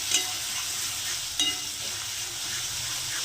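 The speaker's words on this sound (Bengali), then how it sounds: "এবার এই আদা, রসুন, নারকোল এগুলোকে একটু সুন্দর করে ভাজা ভাজা করে নেব।" Ginger, garlic and coconut paste frying in oil in a pan, a soft continuous sizzle with a couple of brief stirring scrapes, close and steady with no talk.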